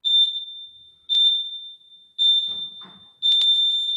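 A workout countdown timer gives four long, loud, shrill beeps about a second apart, each tone fading slightly before the next, with a brief faint voice between the third and fourth.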